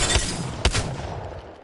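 Two sharp shotgun blasts in a video game, the second louder, each a punchy broadband crack followed by a decaying tail, with no talking.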